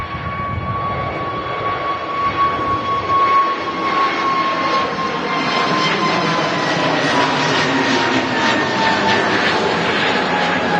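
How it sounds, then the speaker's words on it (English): An EasyJet jet airliner takes off from Manchester Airport for Belfast, a loud sustained engine roar with a high whining tone that slowly falls in pitch, continuous and unbroken, with no talking. "EasyJet off nice and early, heading out to Belfast"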